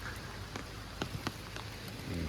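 Heavy rain pours steadily over a flower orchard, a dense continuous hiss with scattered sharper drops striking nearby surfaces, no voices.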